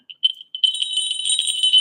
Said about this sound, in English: these kind of trinket bells that go on the feet of the dancer